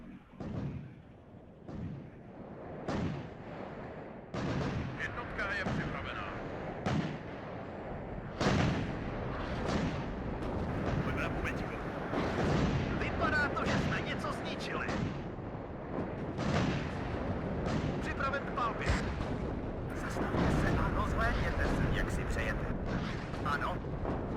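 Artillery fires in the WARNO strategy game, a run of booming shots and thuds at irregular intervals that stay loud throughout while someone talks over them.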